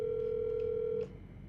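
A telephone call on a line gives a single steady, loud electronic tone that holds for about a second and then cuts off, leaving quiet line hiss with no voices.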